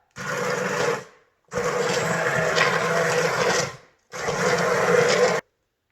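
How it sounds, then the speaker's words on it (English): An immersion blender whirs loudly in three bursts, the middle one longest, as it purees cooked butternut squash in an Instant Pot, with brief pauses between runs. "I love this immersion blender. It makes it super easy because you can blend things right in the pot"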